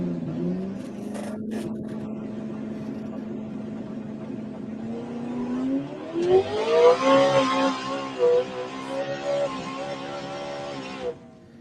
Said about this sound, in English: Here's a street race. It's a all-wheel drive.